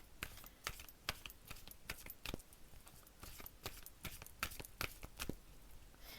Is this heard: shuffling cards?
yes